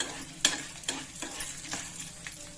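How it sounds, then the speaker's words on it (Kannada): Urad dal, curry leaves and green chillies frying in hot oil, a close crackling sizzle punctuated by several sharp stirring scrapes spaced about half a second apart. "ಈಗ ಉದ್ದಿನಬೇಳೆ ಕೂಡ ಹಾಕೋತೀನಿ. ಫ್ರೈ ಮಾಡ್ಕೊಳ್ಳಿ."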